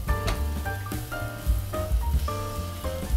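Rice with saffron, salt and other ingredients sautéing in a pan for a festive rice dish, giving a steady close sizzle with light scraping and stirring through the whole stretch, no voices.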